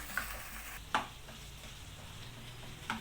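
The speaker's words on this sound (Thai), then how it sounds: "เดี๋ยวเราผัดไปเรื่อยๆนะคะ ผัดไปเรื่อยๆอย่างนี้เลยค่ะ" Long beans and chicken stir-fried in a pan over a gas stove, a steady low sizzle broken by a few sharp spatula scrapes and clinks against the pan, with no one talking.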